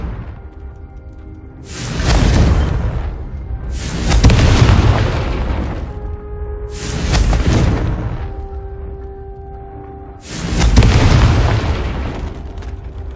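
In the game Hogwarts Legacy, the Confringo spell sets off four heavy, booming fiery blasts, each arriving with a whooshing burst and a rumbling tail, spaced a few seconds apart over a quiet background hum.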